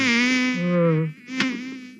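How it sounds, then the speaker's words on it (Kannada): Close mosquitoes buzzing in a steady, whining drone at night inside a village house, with the pitch wavering and dipping briefly midway before the buzz resumes. "ಸೊಳ್ಳೆಗಳೆಲ್ಲ ಬಂದು ಅಂಡ್ಕಸ್ತಾವಿಲ್ಲಿ"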